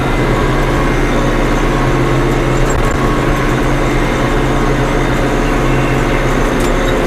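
A tractor engine pulls a field sprayer across a field in gear, a loud, steady, close drone with a low rumble that holds constant throughout, with no talking.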